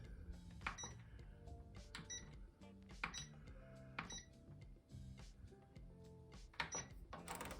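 An oven control panel is set to bake with a series of short electronic beeps and button presses, separated by brief pauses, faint against a quiet room.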